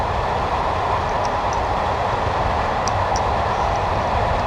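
A diesel train in the Train Simulator game runs with a loud, constant rumbling roar and a few faint clicks, with no pauses.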